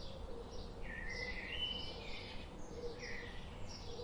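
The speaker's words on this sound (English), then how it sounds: "listen again to the birds and the breeze" Birds chirp and sing outdoors in brief whistled phrases over a steady breeze-like hiss, soft and somewhat distant, with no voices.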